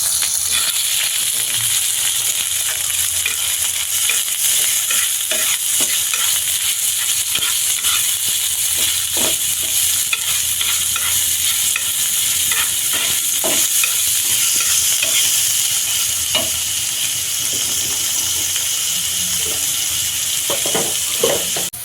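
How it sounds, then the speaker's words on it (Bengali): Chopped onion frying with shrimp in a pan, sizzling steadily throughout with repeated scrapes and clinks of a spatula stirring, close and fairly loud with no voices. "আমরা কিন্তু পেঁয়াজ কুচিগুলো চিংড়ি মাছে দিয়ে দিয়েছিলাম এবং ভালোভাবে নেড়ে নিয়েছিলাম"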